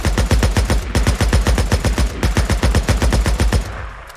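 Sustained automatic gunfire in Days Gone rattles off in a fast, even burst of loud, close shots, pausing briefly once before resuming and cutting off near the end.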